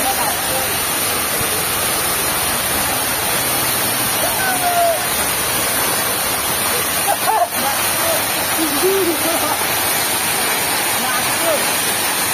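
A roadside waterfall in the Konkan countryside roars in a steady, loud broadband rush, with faint voices and brief splashes surfacing now and then beneath the constant pour.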